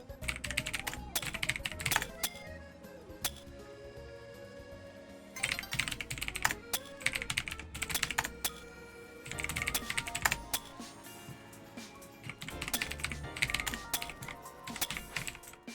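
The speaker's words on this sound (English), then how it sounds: "No, my typing." A computer keyboard clatters in rapid bursts of typing separated by short pauses, close and fairly quiet, with faint background game music.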